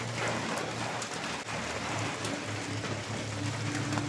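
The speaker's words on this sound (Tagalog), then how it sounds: "Ayun na ulan." Steady rain pours down around a hut in the countryside, a dense, continuous hiss of drops on surfaces that holds an even level throughout with no voices.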